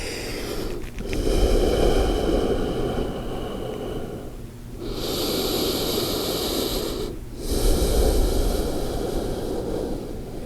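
Forceful rhythmic exhalations through the nose during Ashwini Mudra yoga breathing, three long rushing breaths close to the ear separated by short pauses, with no talking.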